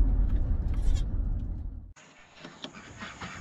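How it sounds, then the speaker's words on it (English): A milk goat bleats loudly up close for about two seconds, a low wavering cry, followed by quieter rustling and a faint high steady tone. "So, anyway, we are new milk goat owners."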